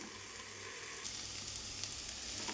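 Drumstick pulp and onion sautéing covered on a low flame, a faint, even sizzle that swells slightly partway through, steady and unbroken with no voices.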